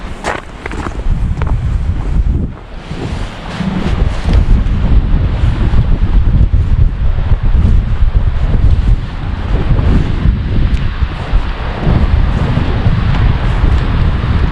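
Strong wind buffets the microphone beside the Kettle River near a swing bridge in Jay Cooke State Park the day after a spring snowstorm, a loud, continuous roar with gusts and only a brief lull.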